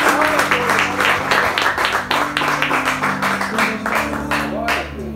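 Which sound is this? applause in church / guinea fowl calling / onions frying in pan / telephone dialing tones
applause in church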